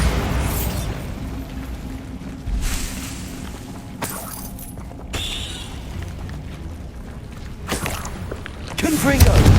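Bombarda spell blasts in Hogwarts Legacy combat: several booming explosions and crackling bursts go off amid fighting clatter, with a player calling out spells between them.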